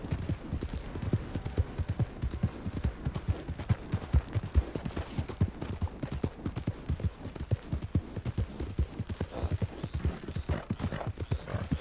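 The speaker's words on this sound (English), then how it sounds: "Dang, I don't even know what kind of horse this is." Horse hooves clip-clop at a steady galloping rhythm in Red Dead Redemption 2, loud and close throughout with dense, repeated impacts and no talking.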